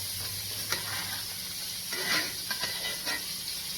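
Steak sizzling in a pan while being basted with garlic butter, a constant close hiss with scattered spattering pops and occasional stirring scrapes.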